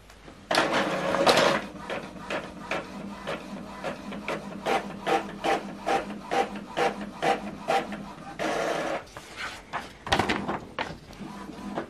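An Epson WorkForce 2910 inkjet printer runs a test page, its print head shuttling in a quick, regular series of mechanical whirs and clicks, close up with no talking.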